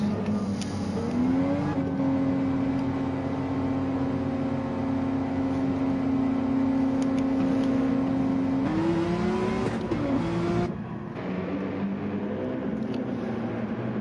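Onboard engine of the Nexus Racing Porsche 911 RSR race car at Daytona, a loud steady high-revving drone holding pitch for several seconds before shifting up, dipping and settling into another sustained note.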